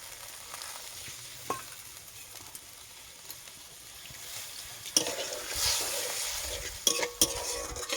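Ivy gourd cooked with poppy seed paste is stirred in a pan: a soft, steady sizzle, then louder scraping and clattering of the spoon against the pan in the second half, close up and without talk.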